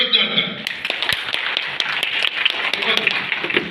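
An audience gives a burst of close, sharp, uneven claps, with a voice speaking over them at the same time.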